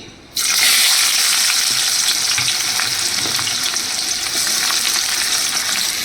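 Onions dropped into hot oil with a dried chilli tempering sizzle loudly and steadily, starting with a sudden burst and then holding a dense, crackling hiss with faint stirring.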